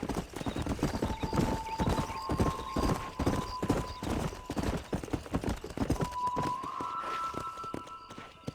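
Horse hooves gallop in fast, steady clip-clop through the Red Dead Redemption video game, with a whinny mixed in as the ride carries on.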